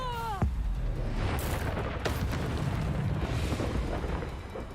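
An Expelliarmus spell cast in Hogwarts Legacy opens with a quick falling whistle, then swells into a loud, sustained rushing roar with bright bursts, close and continuous for several seconds.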